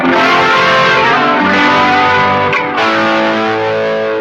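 An electric guitar run through digital delay, chorus, distortion and reverb rings out loud and sustained, with thick, buttery overdriven chords blending into one another and a brief dip partway through, with no talking.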